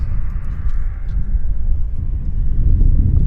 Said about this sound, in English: Okay, the Airbus is getting close.